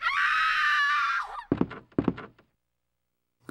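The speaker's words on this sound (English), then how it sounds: "and that was a scream" A loud scream from the Resident Evil 2 video game, sustained for over a second, then cut off by two heavy thunks and a brief silence.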